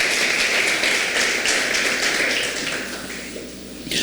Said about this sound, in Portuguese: Então aplauda a Deus aí com muita alegria.